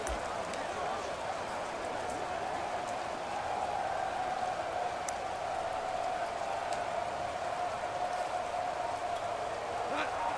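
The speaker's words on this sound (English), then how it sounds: "You add in a downpour like we're in right now, it makes it that much harder." Heavy rain in a Madden football video game makes a steady, dense hiss that holds throughout and sits under a commentator's voice with a faint tonal hum.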